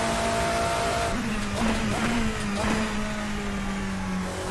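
A classic endurance race car in an Assetto Corsa simulator mod drones steadily at high revs, engine tone shifting with gear changes and brief tire noise, loud and continuous with no talking.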